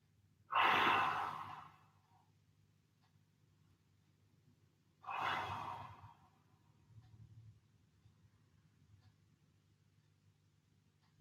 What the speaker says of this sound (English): Big deep breath in as you go down.